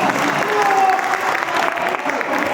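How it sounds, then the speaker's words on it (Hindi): A crowd at a college program applauds a ghazal singer, a dense wash of clapping heard close, with some voices and a sustained tone mixed in. "एक जिंदा दिल श्रोता जरा बजाओ इनके लिए जोरदार तालियां"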